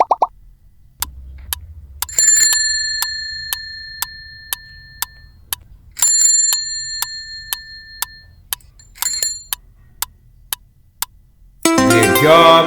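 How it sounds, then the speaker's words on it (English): A sharp bicycle bell sounds a few clear metallic rings that hang and fade, set among a string of short clicking ticks. A burst of a different sound follows at the end. "a bicycle bell's sharp ring can easily be mistaken for a phone"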